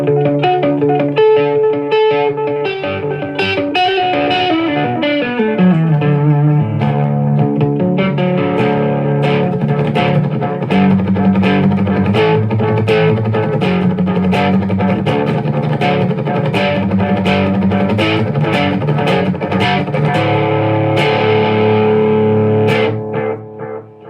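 Electric guitar through an MXR Carbon Copy analog delay at a medium setting, a steady run of close, loud picked riffs and lead notes with audible repeats trailing behind them, playing continuously without talk.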